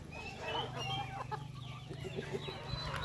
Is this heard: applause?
no